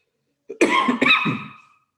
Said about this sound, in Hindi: सॉरी, खांसी ज़रा मुझे बहुत आ रही है